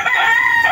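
Hens kept in a coop bedded with rice-hull litter let out a brief, close, strained crowing call that holds steady for under a second.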